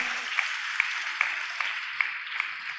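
A church congregation claps in praise to God after a sermon point, a dense wash of hand claps with a few sharper single claps standing out at a steady pace, moderately loud and roomy, with no talking.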